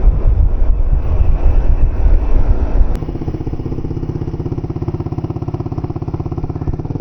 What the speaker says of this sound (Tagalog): Super lakas ng hangin